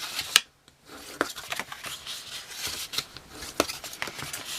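Folded cardstock for a small perfume gift box is burnished and handled at close range: scraping, rubbing strokes and crisp paper rustles with sharp clicks, in uneven bursts with a brief pause near the start.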